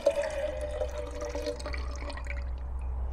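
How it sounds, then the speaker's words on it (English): Liquid from a can of roast beef is poured out in a continuous, gentle trickle with small drips and splashes. It is close and fairly quiet, and no one speaks. "Let's pour the juice out."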